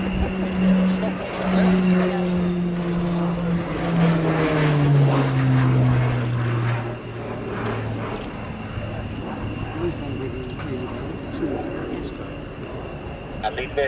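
A Short Tucano T1 aircraft with an up-rated Garrett TPE turboprop engine drones overhead at an air show flying display, its pitch sliding downward as it passes, with a steady high whine and someone talking over it.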